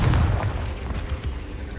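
A Confringo fire spell from Hogwarts Legacy goes off as one deep, loud boom. It decays into a rumbling tail over a couple of seconds, with no talk.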